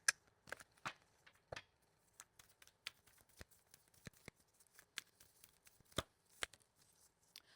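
Oracle cards are shuffled by hand in a series of sharp, separate papery snaps and riffles, close and fairly quiet, with faint rustling between them.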